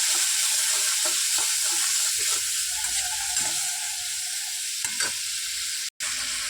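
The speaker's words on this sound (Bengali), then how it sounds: "আমি একটুখানি জল দেবো, দিয়ে এটাকে আমি নাড়াচাড়া দিয়ে ভালো করে একটু মিশিয়ে কষিয়ে নিই।" Masala paste with a splash of water stirred and fried in a pan, steady close sizzling with scraping spoon strokes throughout and a brief dropout near the end; no talking.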